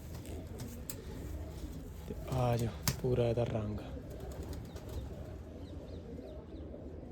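Sialkoti pigeons cooing close by, a short burst of coos in the middle, with someone talking over and around them.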